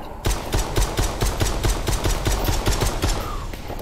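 Rapid gunfire from a VR zombie horror game, a quick regular string of sharp shots that fire back to back for several seconds, close and loud, with no talking.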